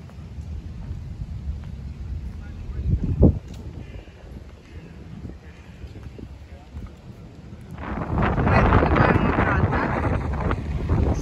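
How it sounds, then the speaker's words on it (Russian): Wind buffets the microphone outdoors beside the Bosphorus in Istanbul, giving a low rumbling gusty roar that swells sharply toward the end, with faint voices underneath. "За ветром, может быть, не слышно."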